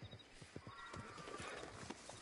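A horse in the Red Dead Redemption 2 video game gallops up with quick, rhythmic hoofbeats, faint and slightly distant, growing a bit louder as it approaches.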